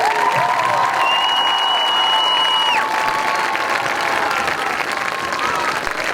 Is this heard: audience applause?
yes